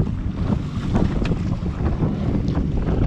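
Steady wind buffeting the microphone on a jetski idling in neutral at sea while fishing, a constant low roar with faint water sounds.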